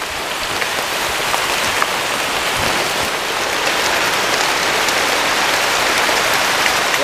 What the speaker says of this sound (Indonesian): Hey, inilah hujan panas kata orang.